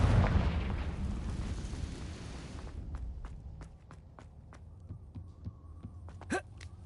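A Confringo blasting spell cast in a Harry Potter video game: a loud, broad explosive burst that rumbles and fades over about three seconds, followed by scattered sharp clicks and one brief whooshing sweep.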